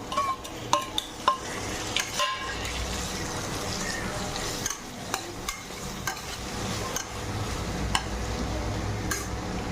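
Onion, tomato and spices fry in a pan, a steady close sizzle with the scrape of a stirring spoon and a few sharp clicks from utensils, no voices.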